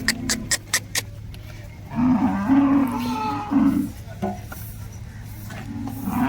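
A dairy-farm cow gives one long, loud, deep moo in the middle, preceded by a few sharp clicks and followed by quieter farmyard background.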